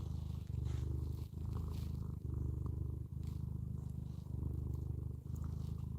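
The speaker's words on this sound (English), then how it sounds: "Can y'all hear the purr?" A domestic cat purrs close up in a steady rhythmic rumble, each breath cycle marked by short pauses, with no talking over it.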